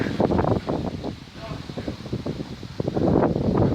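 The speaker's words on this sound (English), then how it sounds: "it's real windy down here, so I don't know how much you can hear me" Loud wind buffets the microphone in rough, fluttering gusts throughout, with a voice partly buried underneath.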